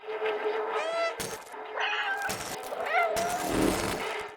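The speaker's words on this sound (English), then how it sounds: "We also learn that we can choose to meow by pressing the B button." A cat meows repeatedly in the video game Stray, a few rising, drawn-out calls over continuous game background sound, close and clear.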